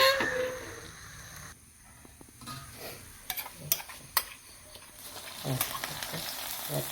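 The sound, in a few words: curry leaves frying in coconut oil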